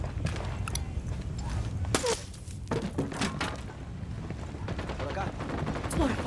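Gunfire in the video game Ghost Recon Wildlands, a mix of sharp shots and dull thuds scattered irregularly over several seconds amid a noisy battle background.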